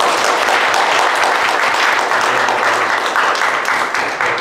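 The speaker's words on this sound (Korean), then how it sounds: "오늘 박수로 그보다 한번 격려해 주는 시간 갖도록 하겠습니다." Sustained audience applause in a church gathering for an evangelism training class, dense steady clapping from a sizable crowd filling the room, fairly loud and continuous throughout, tapering slightly at the end.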